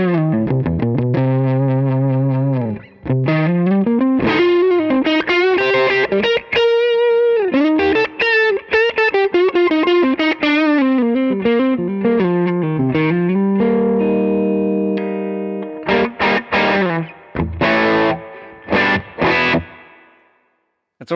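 Distorted electric guitar through a tube amp and power attenuator, played loud with chords and lead lines ringing under effects, continuous for about fifteen seconds before breaking into choppy stabs and a few sustained hits.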